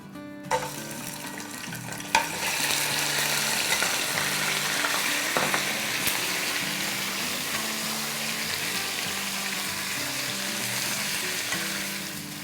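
About two pounds of mutton dropped into a hot pot with bay leaves and whole spices, giving a sudden loud sizzle that settles into a steady, close frying hiss with occasional stirring clinks.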